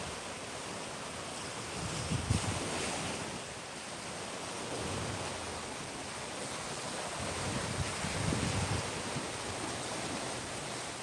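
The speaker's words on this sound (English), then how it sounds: "Can you guys hear the ocean?" Surf rolls continuously onto a Clearwater, Florida beach, a dense hissing wash of breaking waves heard up close, with a couple of heavier swells and steady wind noise across the microphone, no voices.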